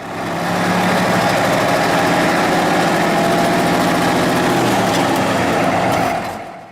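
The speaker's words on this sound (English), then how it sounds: "The END673 was one of Mack's most widely used inline 6 diesels" A Mack END673 inline six diesel truck engine of the kind fitted to B and R model trucks runs steadily and close by, with a continuous loud, even rumble and no voices.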